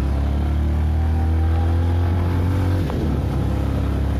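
A vehicle engine revs steadily while climbing uphill, producing a loud, continuous low drone that holds throughout with a slight dip near the end.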